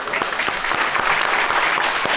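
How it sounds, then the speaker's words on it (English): Studio audience applause rolls on steadily and fairly loud, a dense patter of many hands clapping throughout. "I'm not sure why the audience even clapping"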